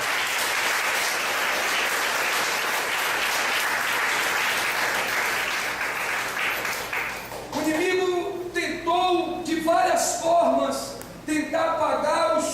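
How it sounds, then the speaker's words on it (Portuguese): A church congregation gives sustained applause for about seven seconds. The clapping then fades as a preacher begins speaking. "aplauda ao Senhor."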